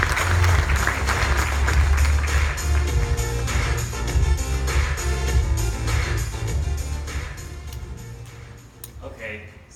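An audience applauds to welcome a speaker at a corporate technology roadshow in Australia, a full, sustained clapping that carries on loudly before slowly thinning toward the end, with some voices underneath.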